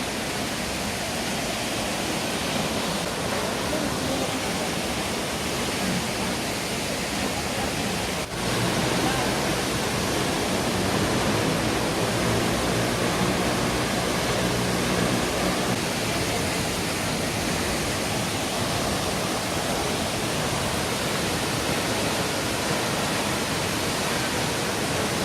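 The Biroro waterfall in Malino gives off a loud, constant broadband roar of falling water. It continues unbroken throughout at close range and drowns out any other sound.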